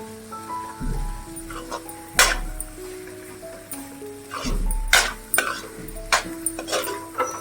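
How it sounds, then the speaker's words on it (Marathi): Misal masala being stirred in a pan for a Kolhapuri misal, with scraping and squishing strokes that come in bursts, a few louder scrapes standing out over a quiet background. "ढवळत राहा मसाला"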